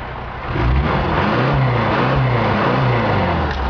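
A 1976 VW Westfalia camper van engine idles steadily and close by, a continuous low rumble with a slight swell early on, nobody speaking.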